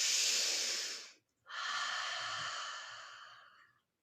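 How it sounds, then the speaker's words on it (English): Deep, slow breathing held during a yoga pose: a long airy exhale, a brief pause, then a second long breath that gradually fades out, close and alone. "One more breath here."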